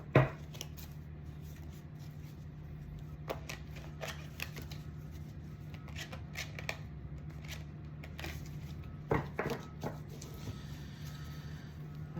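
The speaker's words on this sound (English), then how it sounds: "I'm really shuffling to make sure that we're getting the right card for today." Tarot cards being shuffled by hand, a series of quiet crisp riffles and soft slaps at irregular intervals over a low steady hum, with one sharper burst near the start and another near the end.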